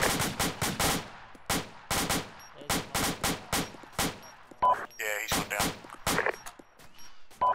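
Video game machine gun fire rings out in loud, close bursts of rapid shots separated by short pauses, with a sharper rattling burst midway and more bursts toward the end.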